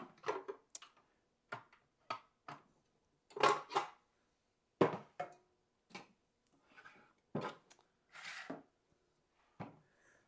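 Short clattering knocks and taps from a baking pan being picked up and set down while making a raspberry crumble, a series of separate close, fairly quiet clunks with pauses between them.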